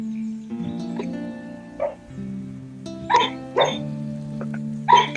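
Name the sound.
dog making noises while dreaming in its sleep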